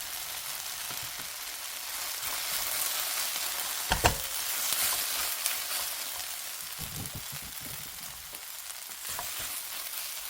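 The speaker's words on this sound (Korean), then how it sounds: "파를 볶아줬습니다." Green onions stir-fry in a frying pan with a continuous close sizzle like light rain, broken by a sharp clank of the utensil and a few scraping stirs, with no voices.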